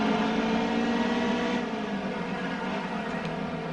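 A NASCAR race car engine in the NASCAR Heat 2 video game drones steadily at high revs, a loud continuous buzzing roar that eases slightly partway through without any talk.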